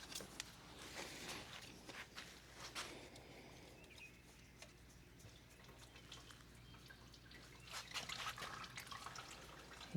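Engine oil drains from a Hitachi 50 excavator into a bucket, heard as faint irregular drips and a soft trickle over a low steady hum.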